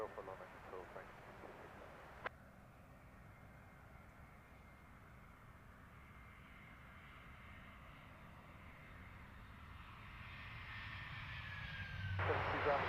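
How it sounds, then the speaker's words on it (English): EasyJet Airbus A320-200 arriving from Geneva and touching down at Luton Airport, a steady distant jet roar that slowly builds louder toward the end, with radio chatter at the start. "About to touch down. EasyJet 2538. This one's in from Geneva on an A320-200."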